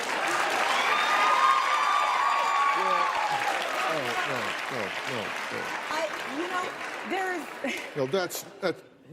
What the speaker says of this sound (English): No, do not cheer that behavior.